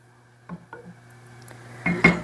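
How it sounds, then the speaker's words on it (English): A lid is set onto a pot of simmering tomato basil soup with a couple of light metallic clinks, then a louder clatter as it settles, close by and alone. "I'm going to put the lid on and just let this simmer away for a little while"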